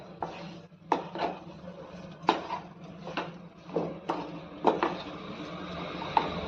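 A spoon stirring sheera with added sugar in a pan, giving a series of close, distinct scraping knocks against the metal at an uneven pace of roughly one per half second.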